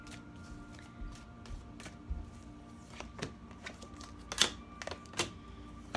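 Tarot cards laid down one by one on a table for a love reading, giving soft, sparse taps and light slaps at irregular intervals over a quiet room hum.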